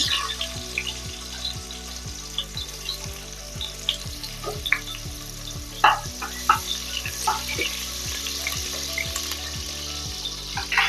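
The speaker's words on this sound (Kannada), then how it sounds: "ಎಣ್ಣೆ ಬಿಸಿ ಆಗಿದೆ ಇವಾಗ ಒಂದು ಚಿಕ್ಕ ಈರುಳ್ಳಿ ಕಟ್ ಮಾಡಿ ಹಾಕೊಳ್ಳೋಣ" Chopped onion fries in hot oil, a continuous crackling sizzle with occasional stirring clicks, close-up, over steady background music.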